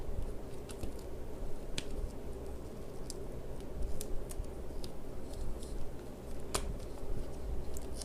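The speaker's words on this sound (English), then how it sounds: "I like to cut the slits diagonally from where the hidden pockets begin" Scissors snip diagonal slits in duct tape while a women's wallet is being made, giving a series of crisp, close cuts spaced irregularly over a quiet background.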